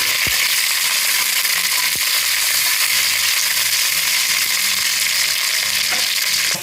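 Green chillies frying in hot oil in a pan for coconut rice, a steady, loud, close sizzle that runs the whole time, with a few sharp clicks of utensils against the pan.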